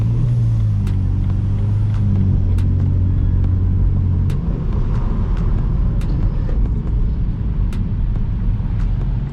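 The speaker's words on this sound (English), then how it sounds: "Yes, wastegate rattle, bad, very." Turbocharged car with a badly rattling wastegate idles and revs loud and close, a steady low engine rumble with a deeper drone in the first half and faint metallic ticks over the top.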